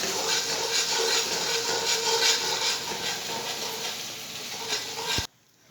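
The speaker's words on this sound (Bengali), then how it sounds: "তারপরে দিব 1 চামচ লঙ্কার গুঁড়ো, একটু নাড়িয়ে নিব" Spices with a spoonful of chili powder are stirred in a frying pan, giving a steady loud sizzle and hiss with scraping stirs throughout, cutting off abruptly near the end.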